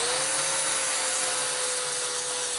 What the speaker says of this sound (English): Flap disc just took it right down.